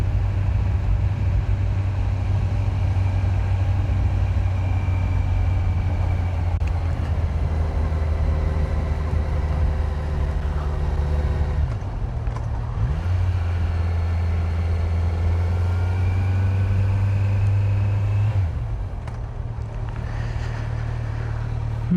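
A stock-exhaust Kawasaki Z900 motorcycle engine idles steadily and loudly close by, a low even drone with a few brief dips in pitch as the revs shift, and no talking over it.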